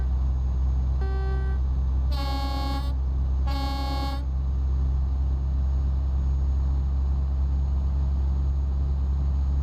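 Truck horn in Euro Truck Simulator 2 honking over a steady low engine drone: a brief tone, then two loud, longer blasts about a second apart, with no talk.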